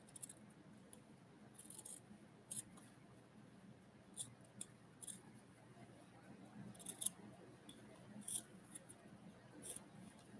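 Scissors snip through a sheet of paper to cut out a single printed word during a home cleaning and crafting session, with several short, crisp snips scattered irregularly over quiet room noise.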